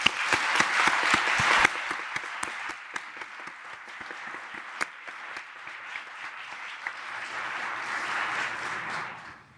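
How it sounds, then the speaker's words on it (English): An audience at a conference keynote breaks into applause, a few sharp distinct claps at first, then a steady, moderately loud patter of many hands that slowly fades toward the end. "So let's give Mr. Filer a strong round of applause."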